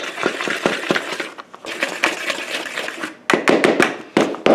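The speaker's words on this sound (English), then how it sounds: "we'll whisk together the dry ingredients" Dry ingredients for zucchini bread with applesauce are whisked in a bowl, making quick, rhythmic scraping and tapping strokes in uneven bursts up close.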